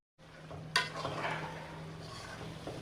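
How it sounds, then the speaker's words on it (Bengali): Spice paste with dry chilli powder fries in oil for chicken curry, a low steady sizzle with one clear clink of a utensil early on, quiet and close. "মশলাটা আমি ভালো করে ভেজে নিচ্ছি"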